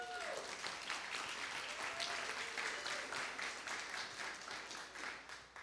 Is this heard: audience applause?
yes